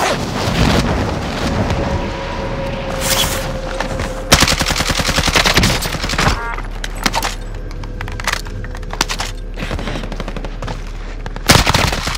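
Loud, close automatic gunfire from the video game Call of Duty: Modern Warfare, with rapid bursts and sharp single shots over a low rumbling background, and a tone sweeping in the middle.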